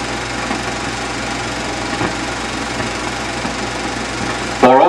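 A 1950s Allis-Chalmers WD-45 tractor engine drones steadily as it drives away, even and mechanical, with a faint knock near the middle and a voice cutting in at the very end.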